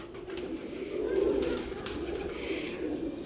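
Breeder pigeons from Kasur coo in a low, rolling murmur that swells and fades steadily, close by with faint outdoor background.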